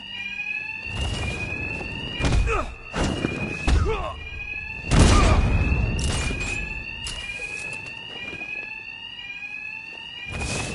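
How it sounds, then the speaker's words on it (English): A loud, insistent alarm bell rings through a building in the Batman Arkham Knight video game, and it keeps repeating. Heavy thuds and impact hits from a brawl break through it in bursts. "these thugs can't hear a thing over the alarms"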